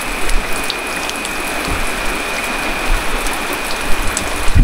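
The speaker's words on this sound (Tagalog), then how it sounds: "umuulan." Steady rain falls outdoors in a dense, constant hiss of drops on surfaces, close and fairly loud throughout with occasional louder patters.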